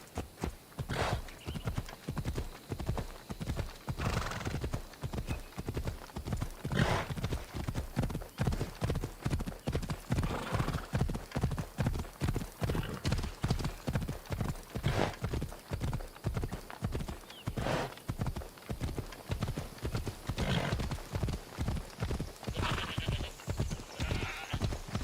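Phobos the horse gallops steadily in Assassin's Creed Odyssey, a rhythmic clip-clop of hooves close and loud for the whole stretch, with a brief whinny in the mix.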